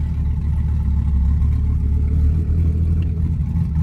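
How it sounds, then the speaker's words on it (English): A large 9.0L Viper V10 engine idles low and steady, a deep rumbling drone with slight fluctuations as the sports car creeps along in first gear without throttle. "I can just creep the car out."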